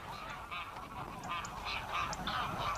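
A flock of greylag geese honks repeatedly in the marshes, nasal calls overlapping at a moderate distance over a steady background rumble.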